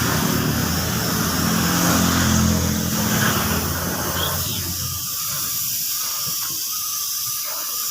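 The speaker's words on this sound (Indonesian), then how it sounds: "Nah, kita semprot tipis-tipis saja seperti ini" A spray gun hisses steadily as it applies thinner to a motorcycle body panel, a loud, close, continuous airy spray that eases back toward the end.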